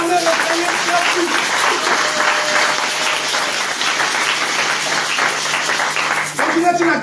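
Congregation in a French-speaking church service applauding together, a steady dense wash of clapping under ongoing voices and some tonal sound, continuous for the whole stretch.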